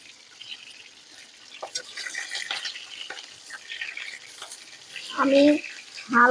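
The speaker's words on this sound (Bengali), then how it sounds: "এখন পটলগুলো আমি ভেজে নেব।" Pointed gourd (potol) pieces dropped into hot oil in a wok, soft sizzling and stirring scrapes, with a brief burst of louder frying near the end and faint speech in places.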